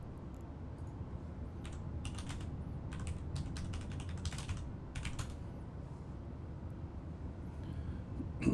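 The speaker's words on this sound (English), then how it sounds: "All right, so I'm typing to them." Typing on a computer keyboard during a live EVE Online session, with quick clusters of faint keystrokes in short irregular bursts over a steady low background rumble, and no talking.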